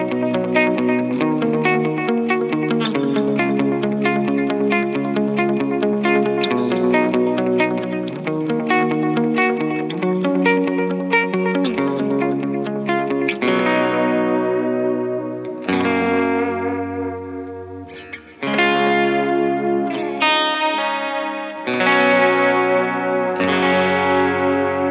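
An electric guitar runs through UAD amp modeler plugins with effects, distortion and chorus, first strumming dense chords, then picking separate ringing notes and chords with decaying tails, loud and close.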